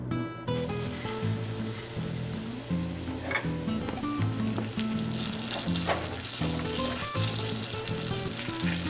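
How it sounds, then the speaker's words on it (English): Monkfish hits a pan of browned butter and sizzles loudly and continuously, a dense crackling hiss with scattered spits and pops, under a low hum and with no voices. "Put our fish in."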